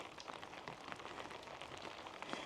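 Rain falling outdoors on a farm, a soft, even patter of drops on surfaces that holds steady and fairly faint throughout.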